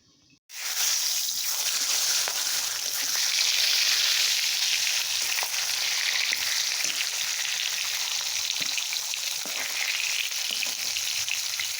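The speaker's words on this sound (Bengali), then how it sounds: "এখন মাছগুলো ভেজে নিচ্ছি।" Fish sizzles and crackles steadily in oil in a pan, a loud, dense frying hiss that starts abruptly and holds for the whole stretch with faint occasional pops, no voices.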